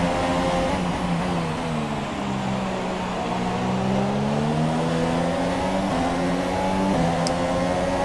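Formula 1 race car engines in the F1 2017 racing game, a sustained high-pitched whine rising and falling through gear changes as cars run close together, loud and steady for the whole stretch.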